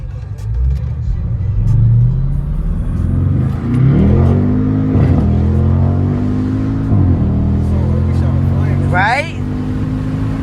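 BMW 550i with catless downpipes and straight-piped exhaust revving hard inside the cabin, its deep rising and falling engine tones ending in a short burst of crackling pops, with people talking over it.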